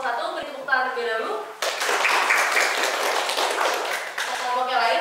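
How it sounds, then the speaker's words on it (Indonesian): Students in a classroom clap for the first presentation group, a dense round of applause of a couple of seconds, framed by a teacher speaking before and after. "Beri tepuk tangan terlebih dahulu."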